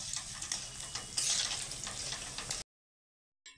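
Palm fritters (tal fuluri) sizzle in hot oil while being stirred, a steady loud crackling hiss with scraping bursts, ending abruptly before a brief return.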